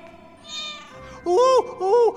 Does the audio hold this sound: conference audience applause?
no